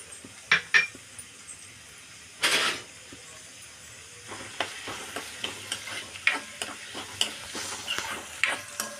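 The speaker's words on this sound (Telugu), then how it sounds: "ఆనియన్స్ కొంచెం వేగాలి." Onions frying in hot oil with a steady sizzle, stirred in repeated scrapes and clinks of a utensil against the pan, with a few sharper knocks early on; cooking for an octopus and brinjal curry.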